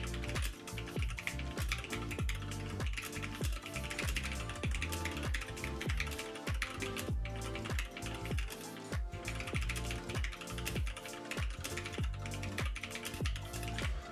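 Fast computer-keyboard typing from someone coding in Unity C#, a dense, steady clatter of keystrokes lasting the whole stretch with tonal background sound mixed underneath.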